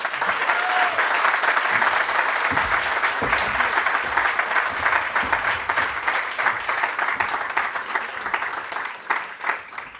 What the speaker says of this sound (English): please join me in giving a warm round of applause to our distinguished guest speaker, Mr. Rahul Gandhi.